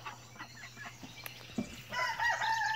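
A rooster gives a weak, short crow near the end, faint and a little distant over a quiet background with a low steady hum and a few soft clucks before it.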